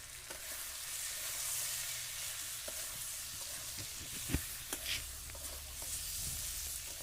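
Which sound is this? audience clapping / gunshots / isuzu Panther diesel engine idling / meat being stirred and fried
meat being stirred and fried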